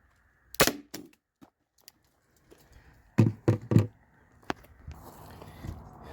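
A less-lethal launcher fires its last round from the magazine at a plastic bottle on a table, giving a sharp pop followed by a quick cluster of knocking impacts and light handling clatter, fairly close.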